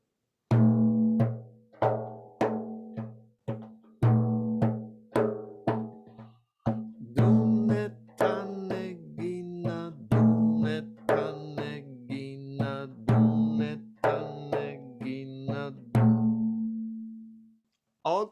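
A frame drum plays a steady, repeating pattern of low booming strokes and lighter taps, close and clear, with quick doubled hits between beats.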